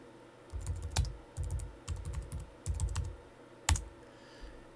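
Bursts of keystrokes on a computer keyboard as commands are typed to check a Git install, several quick clusters of clicks with pauses between and a firm final tap, close and fairly quiet with no voices.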